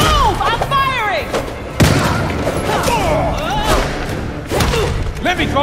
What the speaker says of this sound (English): I'm shooting! Get out of the way!